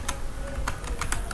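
Computer keyboard keys clicking in a short irregular burst while Python code is entered, close and fairly quiet, with no talking.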